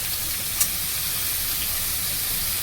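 Capsicum sizzles in a hot pan as a steady, close broadband hiss with one brief sharp crackle near the start.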